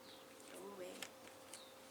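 Flying bugs buzz near the microphone outdoors, faint whining passes drifting up and down in pitch with brief clicks over quiet background.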